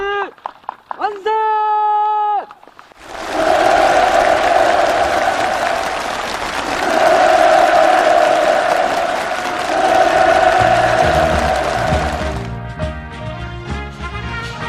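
Enthusiastic applause from a crowd at a new-housing ceremony on a farm fills the middle, loud and sustained, framed by short music at the start and end.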